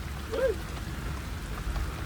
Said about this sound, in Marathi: जास्तच जरा पाऊस आलाय